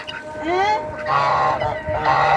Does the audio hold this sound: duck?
yes